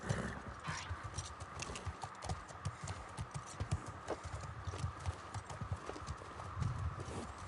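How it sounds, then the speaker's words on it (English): Horse hooves clip-clop steadily in The Last of Us Part II, a continuous rhythm of close, moderately loud footfalls over a low rumbling game background, with an occasional faint whinny. "Oh yeah, got my horse, got my ride."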